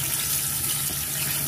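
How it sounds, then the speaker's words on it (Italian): Cold tap water running over freshly cooked pasta in a kitchen sink, a continuous steady splashing flow with a faint low hum beneath, no talking. "io la sciacquo con l'acqua fredda"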